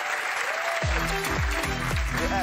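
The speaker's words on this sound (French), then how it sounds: "On peut applaudir Andreas." An audience applauds Andreas in a steady wash of clapping while a voice talks and cheers over it, with bursts of low thumping underneath.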